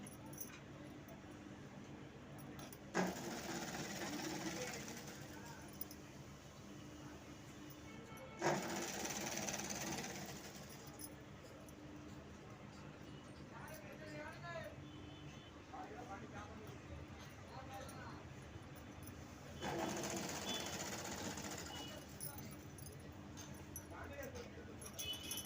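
A sewing machine stitches the side seams of a fabric top in a few separate bursts of whirring, each lasting several seconds. The sound is fairly quiet overall, with pauses between the runs and speech mixed in.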